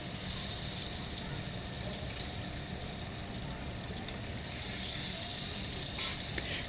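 Bhola fish heads frying in hot oil in a pan, a steady loud hiss and crackle of sizzling that holds evenly throughout, with no voices.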